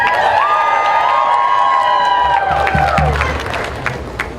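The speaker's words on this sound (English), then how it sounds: "Can you give yourselves a round of applause?" A crowd of young people at an outdoor climate strike rally in Asheville applauds and cheers loudly. Whoops and shouts rise over steady clapping and then trail off slightly toward the end.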